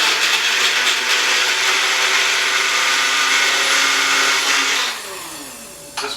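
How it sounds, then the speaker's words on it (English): A Magic Bullet blender pureeing fresh strawberries, a loud, steady high-pitched motor whine that holds for about five seconds and then winds down, followed by a brief clatter. "I'm using a magic bullet here."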